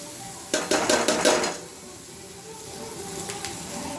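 Fried paneer is stirred into sizzling butter masala gravy in a pan, with a brief burst of scraping and clattering from the spoon against the pan over a soft, steady sizzle.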